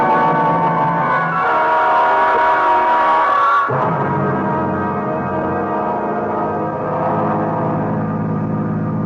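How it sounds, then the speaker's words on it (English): A steady engine drone from a car driving along, used as a radio drama sound effect, sits loud and continuous; partway through, the tone shifts lower and fuller as if gears change, then carries on evenly. "We've been driving for hours."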